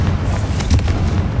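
A Confringo fire spell from Hogwarts Legacy going off, a short loud deep boom with a rumbling low-end burst that fills the moment.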